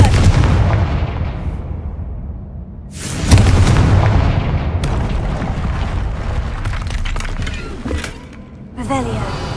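Confringo blasting spell explosions in Hogwarts Legacy, the game, with a heavy boom opening the clip, a second loud blast around the midpoint and crackling debris after, then another burst near the end, with game voices mixed in.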